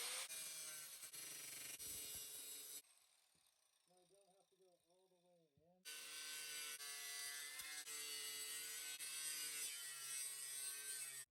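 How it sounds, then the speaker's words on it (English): An angle grinder with a cutoff wheel shrieks through aluminum during an RV renovation, loud and close, stopping for a few seconds while someone speaks, then biting back in with a sustained harsh whine. "angle grinder with a cutoff wheel."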